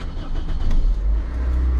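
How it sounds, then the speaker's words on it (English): A car engine starts and settles into a steady low rumbling idle, loud and close, with no talk over it. "So let me start up the car."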